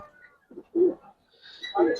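Silver Giribaz pigeons coo in a few soft, low, rolling bursts, close by, with short gaps between calls and a faint higher tone near the end.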